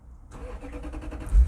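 A Toyota Soarer convertible's 4.3 L V8 cranks with a quick rhythmic churn, then fires with a deep bassy burst at the end, close and loud.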